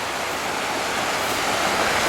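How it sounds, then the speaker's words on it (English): River rapids in a wilderness park rush in a dense, broadband roar of churning water, loud and steady from start to finish with no other sounds standing out. "Remember those rapids I was talking about that attract different kind of waterfowl?"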